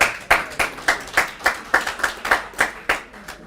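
An audience at a university business school guest lecture claps in slow, evenly spaced single beats, about a dozen sharp claps in steady unison rhythm.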